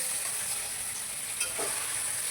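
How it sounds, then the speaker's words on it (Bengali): Paneer frying in hot oil gives a steady, even sizzling hiss close by, with a faint stir near the middle and no voices. "পনিরটা ভাজা হয়ে গেছে, এবার তুলে নেব"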